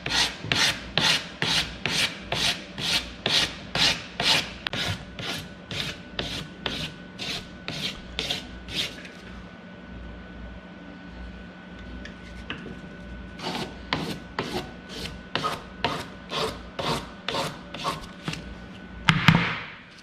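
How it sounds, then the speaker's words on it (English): Sandpaper rasps against a metal casting ring held in a ring clamp, in a steady run of rapid, even back-and-forth strokes that pause briefly midway and then resume, close and fairly loud. "You'll notice, especially if I'm sanding on the outside of a ring"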